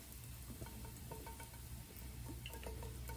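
Oil heats in a pan for chicken adobo, giving a faint, continuous low sizzle and crackle with a few soft ticks throughout, no voices.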